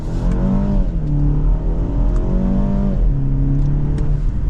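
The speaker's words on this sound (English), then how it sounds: "with the dual clutch and the turbo motor, this thing is pretty peppy and you get up to speed really without thinking" A 2024 BMW X2 xDrive28i crossover with a turbocharged engine and dual-clutch gearbox accelerates from a start, its engine note climbing and dropping through quick gear changes, heard loud and steady from inside the cabin.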